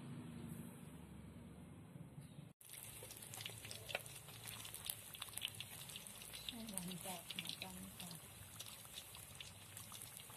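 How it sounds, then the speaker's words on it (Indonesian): Flour-coated stuffed tofu fries in hot oil with a faint, continuous crackle and sizzle, broken by a brief dropout early on. A voice speaks softly over the frying. "nanti dimasukkan ke tepung terigu ya ini ya kemudian kita goreng"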